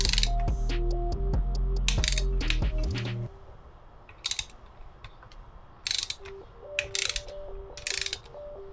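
A ratchet wrench tightens a bolt to 28 foot-pounds on a Subaru STI engine near the timing belt, clicking in a rapid close run for about three seconds, then giving scattered sharper clicks, with no talk.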